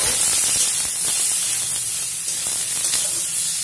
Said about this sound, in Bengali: এখন বেগুনটাকে ভালো মতন ভেজে নেব